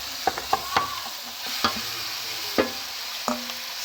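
Chicken curry being stirred in a pan, a spoon scraping and knocking against the metal in a handful of distinct strokes over a soft, steady sizzle.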